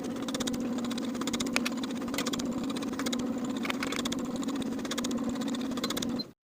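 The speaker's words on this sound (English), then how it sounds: "Sew this neckline seam with a 1/4 inch seam allowance." A sewing machine runs steadily, stitching a yoke neckline seam on a peplum top with a fast even whirring hum and needle clatter for about six seconds, close and alone, then stops abruptly.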